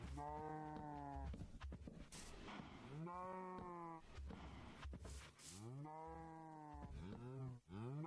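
A cow in the video game Minecraft moos repeatedly, several long, loud, drawn-out lowing calls in close succession, with no talk.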